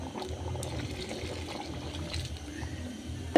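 Coconut powder mixed with hot water being poured into a pot of cooking beans, a steady liquid pour with low bubbling from the pot, continuous and close, no talking.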